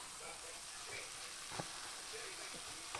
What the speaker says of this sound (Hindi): मैंने सुबह का निकाला हुआ था, उसको डीफ्रोस्ट किया और अब मैं उसको दोबारा से भून रही हूँ।